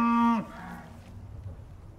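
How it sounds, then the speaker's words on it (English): A cow in the survival game Icarus lets out a single loud, drawn-out moo that breaks off sharply, followed by quiet farm ambience with faint rustling. "can you make them not do moo all the time?"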